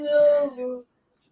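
A dog lets out a drawn-out, wavering whimper that breaks into a second shorter whine before falling silent.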